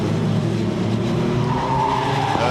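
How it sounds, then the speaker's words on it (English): A Formula 3 race car's tyres squeal loudly under heavy engine roar, a sustained skidding screech close by as the car pushes through Druids corner at Brands Hatch Indy circuit. "you could hear the squeals of the tyres"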